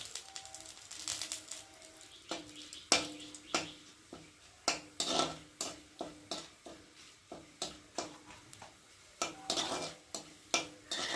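Bay leaves and whole garam masala spices crackle and pop in hot oil in a wok, a steady run of sharp sizzling bursts and spits close by, with no talk.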